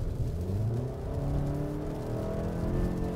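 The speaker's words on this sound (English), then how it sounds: "under hard acceleration, I'm going to hit the accelerator now" An SUV engine drones and climbs in pitch under hard, steady acceleration, a buzzy rising hum heard from inside the vehicle.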